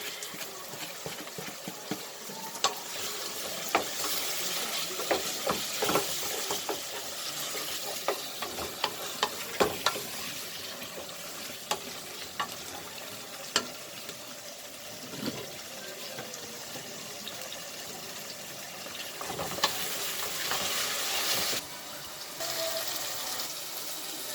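Tomato sauce is stirred in a frying pan, mixing fresh and concentrated tomato, with a soft continuous sizzle and irregular scraping taps of the utensil against the pan throughout.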